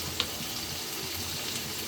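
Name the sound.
spices frying and being stirred with tomatoes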